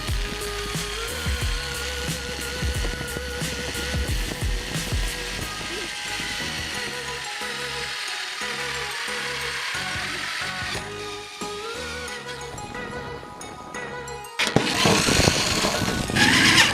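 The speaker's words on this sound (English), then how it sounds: "I'm about to drill the holes in my trunk." A drill bores holes through the trunk lid of a 2017 Subaru WRX while an STI wing is fitted, giving a steady mechanical whir with ratcheting, grinding tones that shift in pitch and turn harsher near the end.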